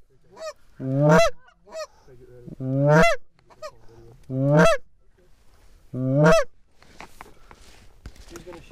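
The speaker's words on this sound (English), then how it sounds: "I heard a goose." Several loud goose honks, harmonic and nasal, come in four separate bursts spaced across an outdoor scene, near and clear, followed by quieter rustling and a few faint clicks.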